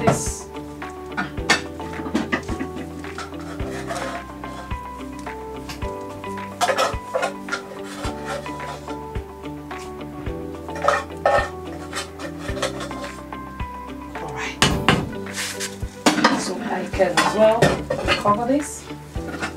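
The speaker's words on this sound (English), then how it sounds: "While I use my wooden spoon to stir." A wooden spoon stirs peppered snail in a pot, producing close, repeated scraping and knocking strokes against the pot with faint sizzling underneath.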